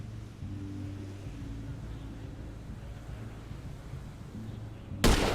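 A single rifle shot fires in GTA 5: one sudden, loud, close crack near the end, cutting through a low, steady rumble of wind- and water-like game ambience.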